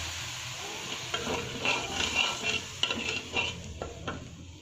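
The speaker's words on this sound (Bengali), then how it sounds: "এবার আমি একটু পানি দিয়ে কষিয়ে দেবো।" A ground paste of onion, garlic, ginger and cumin sautés in a pan with a little water, giving a close, bubbling sizzle with busy stirring and scraping clinks of a utensil against metal.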